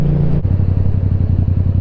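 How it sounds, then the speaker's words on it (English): Motorcycle idling with its exhaust baffle removed, a loud, close, deep rumbling exhaust with rapid regular pulses after a brief shift in tone at the start. "the baffle is out of the exhaust and it is ridiculously loud"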